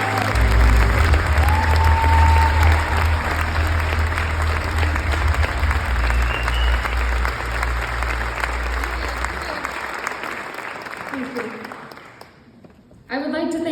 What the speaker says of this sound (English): I would really like to give you a round of applause.